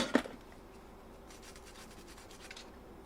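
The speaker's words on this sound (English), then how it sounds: "Let's give it a good hard brush and see what happens." A brush scrubs hard on a water-damaged, corroded circuit board from a PIR sensor light: a sharp tap at the start, then steady close rubbing and scratching strokes, fairly quiet.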